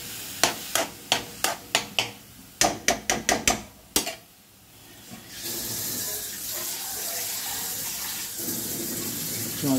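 About a dozen sharp knocks ring out in a quick uneven series. After a short pause, a steady rushing pour of water follows as it is added to a papaya chutney.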